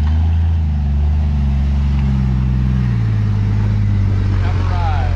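A rescue vehicle's engine drones loudly and steadily as it approaches a heavily loaded truck, the rumble shifting in pitch as it nears, with voices talking over it.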